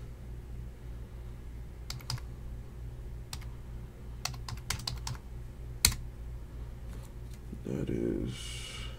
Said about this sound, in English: Let me type this up real quick.